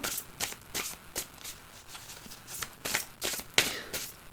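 A deck of tarot cards being cut and shuffled during a love reading, giving a run of quick papery riffles and soft slaps close by, repeating in bursts with a brighter snap near the end, with no voices.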